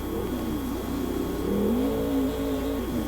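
A Monster Jam monster truck engine revs loudly and continuously during a head-to-head race in an Arlington stadium, its pitch rising and falling as it accelerates, with no talk over it.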